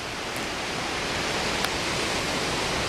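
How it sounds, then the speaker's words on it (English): A steady, close roar of rushing water from a waterfall, constant and full-bodied throughout with no voices. "So here we are at the waterfall."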